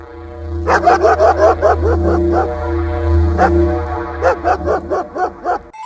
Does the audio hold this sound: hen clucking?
no